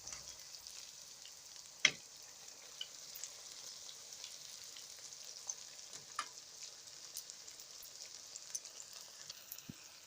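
Bala-bala vegetable fritters fry in hot oil with a steady soft sizzle and scattered small pops and crackles, quiet and close with no voices.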